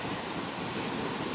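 Surf breaks on a shoreline at the Boat Harbour Reserve during very low tide. The sound is a steady, fairly loud wash of waves with wind buffeting the microphone and no voices.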